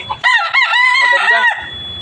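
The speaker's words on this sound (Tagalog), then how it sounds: "naka-ready na yan ng manok niya na dinala rito" A gamecock from Bacolod crows once, loud and close, a long harsh cock-a-doodle-doo lasting over a second.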